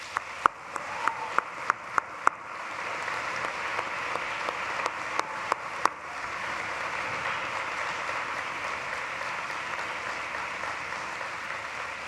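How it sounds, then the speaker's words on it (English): A large audience at a commencement ceremony in an arena gives a sustained round of applause, with a few sharp individual claps standing out at first before settling into a steady, broad wash of clapping. "acknowledge them with a grateful round of applause"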